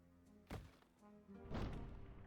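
Cannon fire against Imperial Knights in a Dwarf strategy video game, heard as two dull, booming thumps about a second apart, moderately quiet, with no speech over them.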